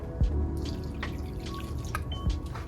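Liquid fertilizer and water trickle and drip quietly into a plant's soil or container, with a few soft splashes and drops over a faint background hiss.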